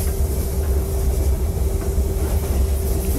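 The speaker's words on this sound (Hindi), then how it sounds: "ये इंजन के अंदर साउंड सुना गाइस" Diesel WDP4 locomotive engine heard from inside the cab in the Open Rails train simulator, pulling the Mumbai-Ahmedabad Double Decker Express: a steady, loud low rumble with a constant tonal hum, continuous throughout with no talking.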